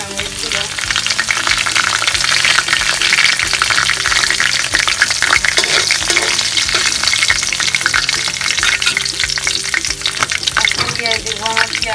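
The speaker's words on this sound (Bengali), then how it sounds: "এখন আমি দিয়ে দিব শুকনো মরিচগুলো।" Dried red chillies sizzle and crackle loudly in hot oil while being stirred, a dense, steady frying hiss that holds for the whole stretch, with no voices over it.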